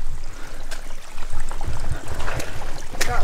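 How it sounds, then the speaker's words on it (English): Footsteps wading through a flowing river, with uneven splashes and sloshes over a steady trickle of moving water, close and moderately loud. "Walking through the river like..."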